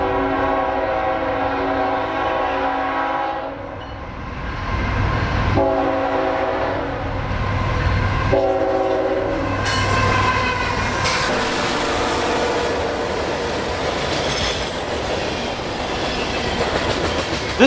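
A CSX Q520 freight train passes a festively decorated depot at night, its horn sounding in loud repeated blasts over the rumble and clatter of rolling cars, close and continuous.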